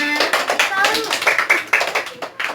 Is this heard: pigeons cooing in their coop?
no